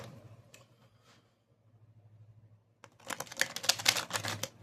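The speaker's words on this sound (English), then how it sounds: "Oh, that was the worst shuffle." A few faint clicks, a pause, then a dense rapid flutter of cards riffling together, close and fairly loud, without speech.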